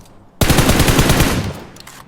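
A loud, rapid burst of automatic gunfire in PUBG Mobile rattles for about a second, then fades into a brief echoing tail.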